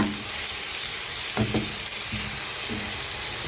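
Tomatoes frying in a pan for a tomato omelette, giving a steady close sizzle throughout with a few brief stirring or scraping knocks, no voices.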